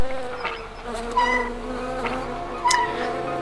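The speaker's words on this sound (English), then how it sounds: "Yeah, I got caught by the bees." Bees buzzing in the video game Star Stable, a close, droning hum with wavering pitch that swells in several short bursts over a low steady background.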